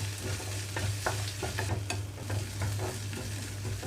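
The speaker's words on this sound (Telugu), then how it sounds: "అల్లం వెల్లుల్లి పేస్ట్ వేసుకున్న తర్వాత థర్టీ సెకండ్స్ వేయించుకుంటున్నాను ఇక్కడ" Ginger garlic paste fries in a pan for a milk-based boondi curry, with a continuous sizzle and repeated scraping stir strokes against a low steady hum.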